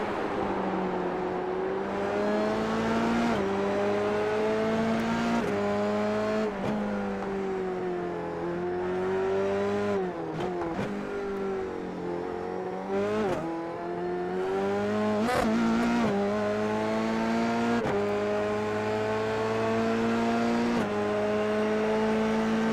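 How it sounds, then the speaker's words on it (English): F3 and F4 open-wheel race car engines in a racing video game at the Catalunya circuit hold a steady high whine that rises and drops with each gear change, loud and continuous throughout. "just let's have a listen to these engines. I want to hear them"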